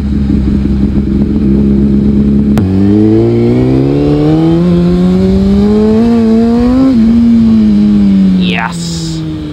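A Honda CBR motorcycle with an aftermarket exhaust revs hard and loud up close, pitch climbing steadily before dropping off to a lower idle.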